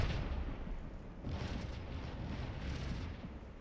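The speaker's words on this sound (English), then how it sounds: "they got more massed artillery in here" Massed cannon fire in a Napoleonic-era battle game: a continuous rumbling roll of distant artillery volleys, booms blending into a steady dull roar.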